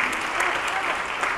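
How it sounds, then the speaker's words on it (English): Audience applause at a forum in Bethany Baptist Church, a steady dense wash of clapping filling the whole moment, with voices mixed in. "Let's put our hands together for Brother Jay"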